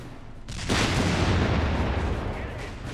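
Infantry covering fire in Company of Heroes 3 bursts in as a dense, loud roar of gunfire and booming that swells after a brief lull and rumbles on steadily to the end.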